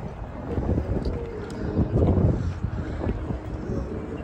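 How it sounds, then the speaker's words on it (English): Strong gusting wind buffets the microphone at an outdoor Indian market, a loud continuous roar with surges in strength, no voices heard. "The wind got bad."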